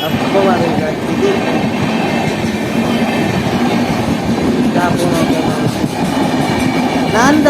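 A train rolls past a railway gate, loud and close, with a continuous rumble and rhythmic clattering of wheels, and faint squeals near the end.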